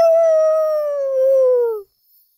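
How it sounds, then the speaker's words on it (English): A dog in a game lets out one long, wavering howl that slides gradually downward and fades into a whimper, loud and close, after fire has been used to burn it and its pups. No voices are heard. "the dogs whimper and howl with the fire that you have just used to burn them"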